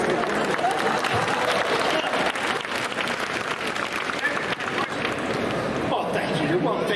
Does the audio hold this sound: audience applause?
yes